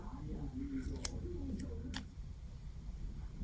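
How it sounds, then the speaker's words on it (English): Scissors trimming paper planner stickers: a few quiet snips over soft room noise, one sharper cut standing out among two or three fainter ones. "So I'm just going to use my scissors and sort of trim that."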